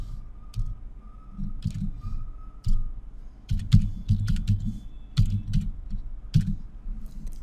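Close computer keyboard typing while writing JavaScript code, irregular clusters of crisp keystrokes with short pauses between them over a quiet background, no speech.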